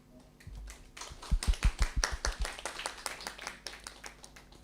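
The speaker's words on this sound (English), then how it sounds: "So you hear the applaud." Audience applause follows a presentation at a panel discussion: a burst of hand claps builds quickly, then settles into steady, moderately loud clapping that continues to the end, with no voices over it.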